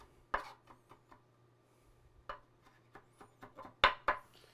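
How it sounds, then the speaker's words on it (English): A knife chopping and mincing garlic cloves on a board, a few sharp close taps spaced irregularly with softer cuts between them, quiet overall. "I just kind of slice across and then mince it up and chop it up"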